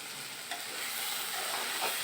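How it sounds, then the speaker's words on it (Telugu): Coriander powder and garam masala are stirred into a hot pan for shahi paneer, making a soft continuous sizzle with light scraping of the spoon, close and fairly quiet. "ఒక స్పూన్ ధనియాల పౌడర్ ఒక స్పూన్ గరం మసాలా వేసి మంచిగా కలుపుకోవాలి"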